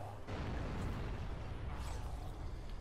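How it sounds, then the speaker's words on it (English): A deep explosion from the zombie survival game Dying Light bursts in after a brief quiet moment, then leaves a rumbling, roaring wash of sound that stays loud for a few seconds. "Explosion."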